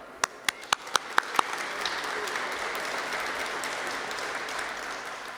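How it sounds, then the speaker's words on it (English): Applause for a color guard at a Loyalty Day ceremony, opening with a few sharp, separate claps and settling into steady, fairly soft clapping from a crowd that runs the full length. "let's have a round of applause for our great color guard."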